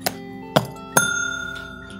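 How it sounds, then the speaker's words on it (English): Three bright metallic dings from a small desk bell, spaced about half a second apart, the last one ringing out and slowly fading. "So I've got a little hotel bell."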